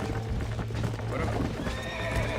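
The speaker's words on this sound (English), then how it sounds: "Esse cavalo, mano." A horse in the Red Dead Redemption video game neighs loudly and shrilly up close, with hoof clip-clops mixed into the whinny; no speech is heard.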